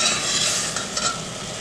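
Boiled beef tripe stirred into a simmering sauce in a pan for dobradinha with white beans, a close wet sizzling and scraping stir running steadily, no voices.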